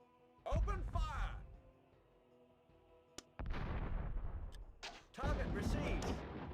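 Volleys of gunfire and artillery blasts from the Warhammer: Dark Omen video game, three heavy bursts separated by a quieter lull and a single sharp crack, with game voices calling out among them.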